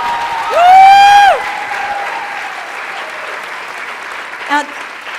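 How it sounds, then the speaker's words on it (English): A live show audience bursts into loud applause after a sharp, high cheering whoop. The clapping then settles into a steady, broad wash that carries on to the end, with a brief voice near the close. "Give them a round of applause."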